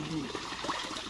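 Water rushes steadily into a fish pond stocked with pabda fingerlings, a continuous broad gush with voices talking over it.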